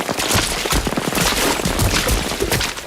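Gunfire sound effect that rattles on continuously for nearly three seconds as a dense, loud volley of overlapping sharp cracks and pops.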